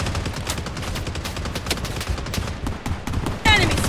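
Rapid gunfire bursts crackle through a Project Bloodstrike firefight, dense and continuous with sharp transients, ending in a louder close burst near the end.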